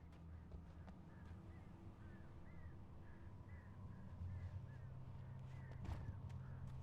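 Crows caw repeatedly at a moderate distance in the game Alan Wake, a series of short calls over a steady low ambient rumble.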